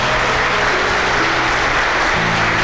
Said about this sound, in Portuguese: Aplaude a Deus pela vida dessa mulher aqui